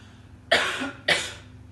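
Two close, loud coughs in quick succession, each a sharp burst fading out over a fraction of a second, against a quiet background hum.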